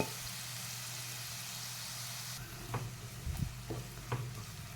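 Crushed onions fry steadily in a pan, a soft continuous hiss with a few brief scrapes or stirs near the end, faint and without talk.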